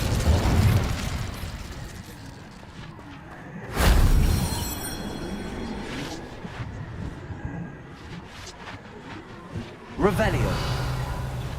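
An Incendio fire spell cast in Hogwarts Legacy gives a loud whooshing burst of flame around the four-second mark, followed by a second flare near ten seconds, set against steady game ambience and voices.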